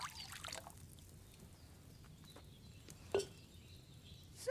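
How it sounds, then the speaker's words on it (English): Wine poured from a pitcher into a cauldron in Kingdom Come, a faint, quiet trickle of liquid with a soft clink partway through. "you have to pour the right base into the cauldron"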